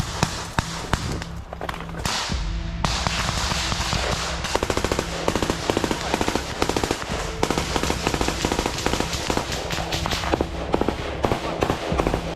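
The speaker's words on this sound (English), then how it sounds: "Suddenly, gunfire can be heard." Bursts of gunfire crackle repeatedly during an attack on Russian positions in Ukraine, rapid automatic shots mixed with single cracks, loud and sustained over a noisy outdoor background.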